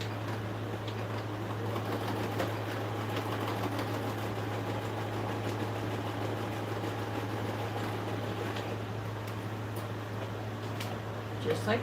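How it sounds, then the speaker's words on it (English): Sewing machine running steadily while joining quilt fabric strips for a mini Christmas quilt, a continuous motor whir with a low hum throughout, fairly loud and close. "now we're simply going to take our C strip and sew one strip on each side"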